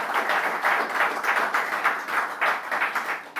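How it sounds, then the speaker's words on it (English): Applause for Dr. Jim Ovia at the commissioning of a Zenith Bank branch in Manchester: a crowd claps steadily and fairly loudly, with the claps swelling and dipping in waves, and no voices heard. "please give Dr. Jim Ovia, CFR, a resounding round of applause"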